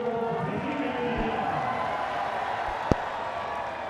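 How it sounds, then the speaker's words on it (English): Stadium crowd at a Hong Kong Sixes cricket match between India and Pakistan, a broad distant roar of applause and cheering sustained throughout, with one brief sharp knock near the end. "Listen to the applause."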